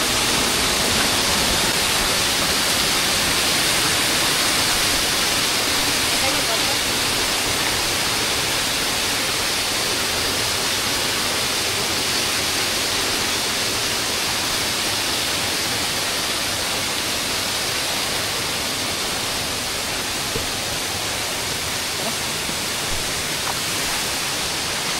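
A mountain waterfall roars as a dense, unbroken rush of falling water, loud and close, holding steady without pause for the whole stretch.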